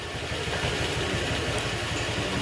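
A Honda Click 150 scooter engine idles steadily up close, with a rapid, regular mechanical ticking running through the low rumble despite a tune-up and valve clearance adjustment.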